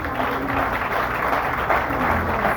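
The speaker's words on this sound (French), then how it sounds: "Oh, applaudissez, applaudissez." A church audience applauds, with dense clapping over a low background hum and some music or voices underneath, steady and fairly loud across the short stretch.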